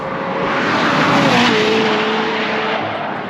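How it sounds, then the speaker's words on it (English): A McLaren 750S supercar drives past loud and close on the Knockhill circuit, its engine note climbing and then falling away with a faint tyre squeal. No one speaks. "McLaren 25 plate 750S getting warmed up."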